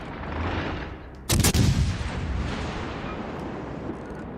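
A British Tier V warship's naval guns fire in World of Warships: a loud, booming salvo that cracks out suddenly after a low rumbling background and rolls off into a fading reverberant tail.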